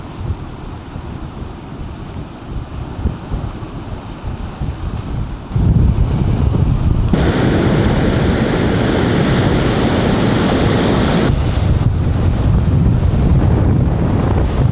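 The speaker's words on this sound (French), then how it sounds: "avec le bruit des vagues" Steady roar of wind and surf, a constant wash of ocean waves close by on the coast of southern Chiba, Japan, with rushing wind buffeting the microphone, growing louder partway through.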